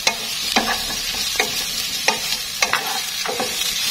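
Mushrooms being stir-fried in hot oil with shallots in a pan: bright crackling sizzle, close and loud, broken by a regular series of spatula scrapes and knocks against the pan.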